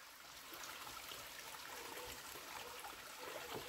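Water flowing at a waterfall below a tall rock wall, a steady, soft rushing hiss that stays even throughout and sounds faint and somewhat distant, with no voices.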